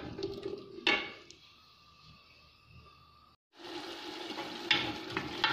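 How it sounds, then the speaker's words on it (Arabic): Onions frying in a pan for a lentil dish, a soft crackling sizzle with a sharp clatter early on, a brief pause, then louder sizzling and stirring sounds, fairly quiet and with no talk. "دوك تقلالي البصل"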